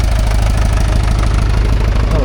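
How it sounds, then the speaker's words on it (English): Fordson Major diesel tractor rumbling past close by at an outdoor rural show, a loud steady low knocking engine throb throughout, with a voice talking over it. "there's a Fordson Major diesel coming past"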